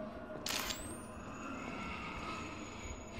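A single quick camera shutter click in the horror video game DreadOut, sharp and brief near the start, followed by a faint high electronic whine over a steady low ambient rumble.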